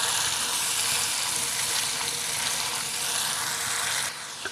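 Red chili powder, kofta masala and coriander powder fry in a pan for beef kofta. A loud, steady sizzle runs continuously throughout with no voices and eases slightly at the very end.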